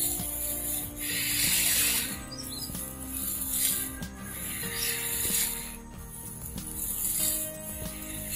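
Repeated breaths drawn in and pushed out through a mouth and nose covered by the hands, done as a hiccup remedy; soft, airy rushes rise and fall in a slow, even rhythm close by.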